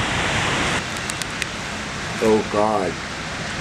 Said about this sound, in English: The storm hits. Dude, it's kind of like doing some other, it's like hailing almost